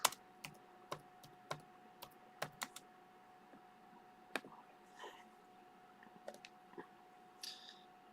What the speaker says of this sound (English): So let's type in Urban Legend.